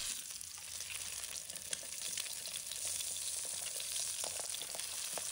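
Steady sizzling of an egg and onion rings frying in hot oil over medium-low heat, a continuous crackling hiss with small pops, close by and fairly quiet, no voices.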